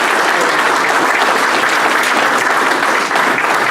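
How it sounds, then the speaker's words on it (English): A large audience at a Govhack event gives a sustained round of applause, loud, dense and continuous clapping that holds at an even level throughout. "let's give ACS a round of applause"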